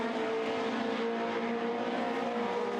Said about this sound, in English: Still cars coming through to take the flag.